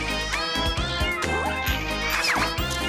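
A cat indoors meows close by, with a few drawn-out, rising and falling cries layered over rhythmic low thumps and dense tonal background sound.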